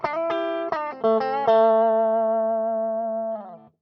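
Electric guitar through a Torpedo cab simulator with the mic placed far behind the cabinet: a few quick plucked notes, then a held chord ringing out and fading over several seconds, thin and strange in tone.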